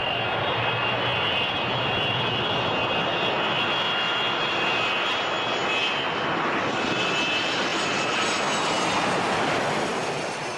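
Steady, loud roar of a jet airliner engine at Hong Kong's international airport near the harbour and city centre, a broad continuous rumble with high whine holding for the whole stretch, no voices.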